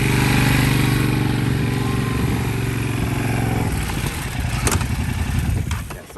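Motorcycle engine turning over slowly at low speed while the bike circles on full steering lock with the clutch eased out, a steady close mid-range drone that roughens and clatters in the second half.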